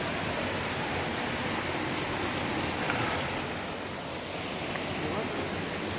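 Hotshot Falls, a waterfall on a creek, pours with a steady, dense broadband roar that stays loud and unbroken throughout, with no voices.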